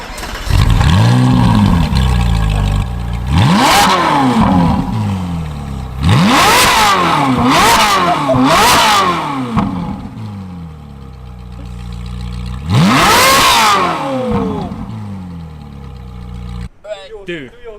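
A car engine revs hard in a tunnel in China, with several loud, rising and falling throttle blips that echo off the walls, separated by idling. Voices talk between the revs.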